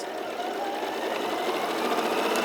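A sewing machine stitches fabric in a steady, continuous whirring hum with fine rapid needle chatter, close by, with no talking.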